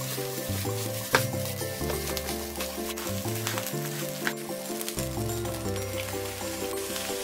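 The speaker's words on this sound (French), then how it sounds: "Faites sauter le riz à feu vif." Cantonese fried rice stir-frying in a wok over high heat, a steady close sizzle with scraping and tossing, with music playing underneath throughout.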